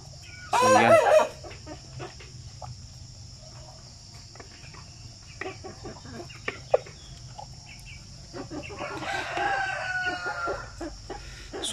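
Shamo Aseel breeder chickens in a rural yard: a rooster gives a short, loud crow near the start, then scattered hen clucks and fowl calls follow over a steady chorus of crickets, with louder cackling near the end.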